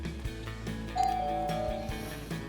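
A fancy camera doorbell chimes at a front door, a clear two-tone electronic ding ringing out over a steady background hum, moderately loud and heard alone.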